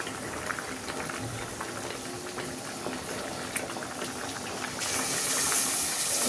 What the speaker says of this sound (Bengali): এটা ফুটে গেছে